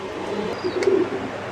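Lahori pigeons coo at a pigeon farm among other pigeon breeds, a low soft murmuring rising briefly in the middle of the clip, near and moderately loud over faint background noise.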